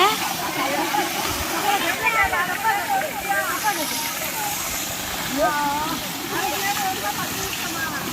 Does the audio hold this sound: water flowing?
yes